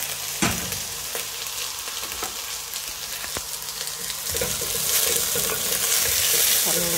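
Vegetable noodles frying and being stirred in a pan give a continuous loud sizzle with scattered clicks and scrapes, growing more intense toward the end, with no voices.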